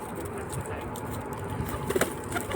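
Pigeons coo softly while being fed outdoors in Croatia, giving low repeated murmuring calls close by over a busy background hum.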